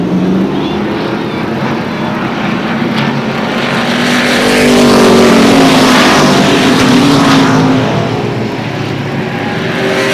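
Street stock race cars roar around the oval at Lee USA Speedway in New Hampshire, a dense continuous engine drone that swells louder mid-pass then eases, with faint crowd and announcer-like voices underneath.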